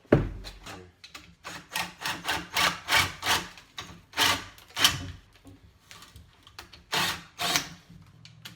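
A wooden post for a kitchen island is cut to enlarge a hole at the sink area, giving a string of close, uneven rasping and grinding bursts with short pauses between them, no talk.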